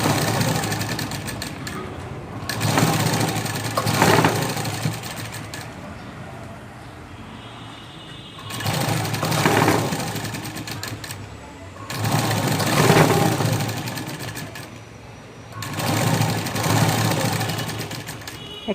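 A sewing machine runs in four long bursts, top stitching through cloth, its steady mechanical whir close and loud, with quieter gaps between runs and no clear talking.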